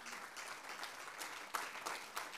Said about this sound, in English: Give them a round of applause as they come.